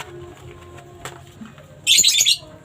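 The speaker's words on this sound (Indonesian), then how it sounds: "Dan di sini kita coba breeding lovebird" Lovebirds kept in a breeding setup give soft chirps, then a loud, shrill squawking burst near the end, over faint background noise.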